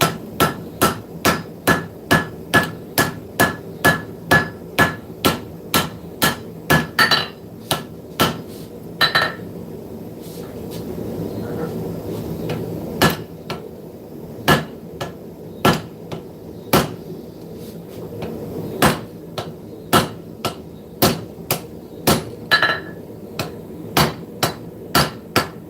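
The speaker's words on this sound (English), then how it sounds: "So I've got the spine on the anvil right here, and I am forging." Steady, loud hammer blows ring out as a knife blade is forged with its spine resting on the anvil in a smithy, strikes coming in quick regular runs with a brief pause partway through.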